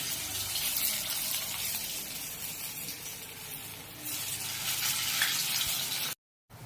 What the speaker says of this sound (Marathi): आता आपण आपली आळूवडी ही तळून घेऊया.